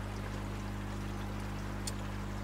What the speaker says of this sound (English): ready to pour in and distribute over the pond